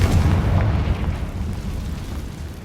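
A Confringo fire spell bursts in Hogwarts Legacy, a short, close, loud boom that rolls into a dense rumbling crackle and fades over a few seconds, with no voices.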